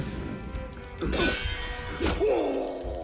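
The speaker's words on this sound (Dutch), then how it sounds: "Oh nee, ze luiden de bel ook nog eens." Two loud metallic clangs of an alarm bell ring out about a second apart in the video game Assassin's Creed Unity, each ringing briefly over a low background of game noise.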